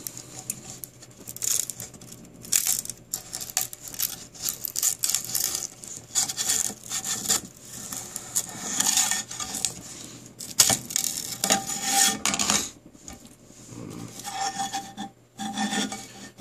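Raspy scraping and rubbing as a 3D print is peeled off the taped bed of a Printrbot Simple Metal printer, in uneven bursts of close, fairly loud friction with no talking.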